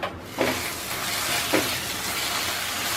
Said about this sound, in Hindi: लगातार चला के मीडियम टू हाई फ्लेम पे मसाले को भून लेते हैं